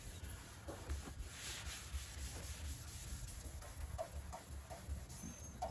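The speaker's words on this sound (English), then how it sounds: "actually dig in with this Scotch-Brite. Scuff it down real nice." Scotch-Brite pad scuffing car paint in repeated short rubbing strokes, a rough, close scratchy sound in a quiet setting.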